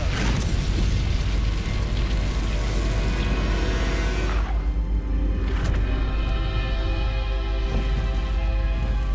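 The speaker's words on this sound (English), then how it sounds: "Incendio!" Incendio fire spell cast in Hogwarts Legacy during a fight with dark wizards and spiders: a loud, sustained roaring blast with heavy low rumble and crackling layers, continuous and close with no gaps.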